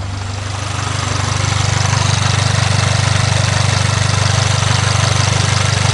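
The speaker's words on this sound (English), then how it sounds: "The exhaust tone was going up and down." A VW MK7 GTI engine idles after running E85 with a misfire, a low rumbling exhaust that swells up in the first second then settles into a steady, slightly pulsing drone, close and loud with no talking.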